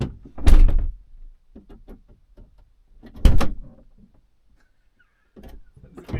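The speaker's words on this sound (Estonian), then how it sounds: "See ise automaatselt avaneb uks." An automatic door swings open with a heavy thunk, followed by a second forceful bang a few seconds later, with soft mechanical clatter and faint noises between the loud hits.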